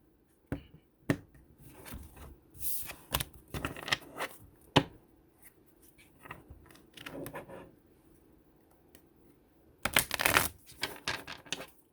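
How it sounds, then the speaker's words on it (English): Tarot cards shuffled by hand in bursts of crisp riffling and slapping, with irregular taps and pauses between, close and fairly quiet, no talking. "Holy Spirit, go ahead and give me some cards where we can pull to find out what's going on with these energies."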